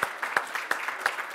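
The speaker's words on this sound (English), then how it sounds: "let's give a round of applause" Audience at the Gordon Goodman Memorial Lecture applauds, a brief patch of steady clapping with several distinct hand claps standing out, moderately distant and soft.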